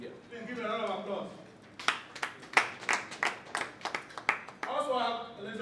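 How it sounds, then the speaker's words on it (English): Applause at a tribute event breaks out after a person speaks, with scattered, uneven clapping from an audience for a few seconds before a voice resumes talking. "Please give me a round of applause."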